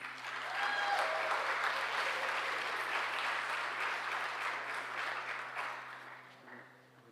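An audience at a Martin Luther King awards ceremony applauds scholarship recipients, a full, even wash of clapping that swells quickly, holds for several seconds and then fades away.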